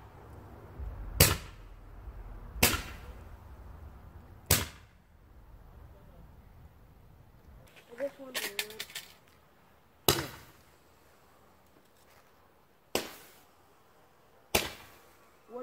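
A World Class Fireworks Color Barrage Roman candle fires outdoors, throwing sharp, loud separate bangs a second or more apart, with a brief crackling flurry midway.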